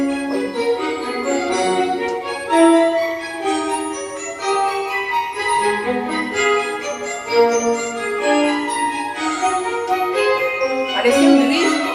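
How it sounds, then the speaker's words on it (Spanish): Baroque oratorio recording of Handel's Saul, its instrumental sinfonia bright with tinkling small bells over singing violins, a light, dance-like, crystalline texture sustained throughout. "¿Oyen las campanillas?"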